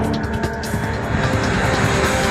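A Lockheed TriStar airliner in flight produces a loud, steady, broad engine roar that is close and continuous throughout, with no voices.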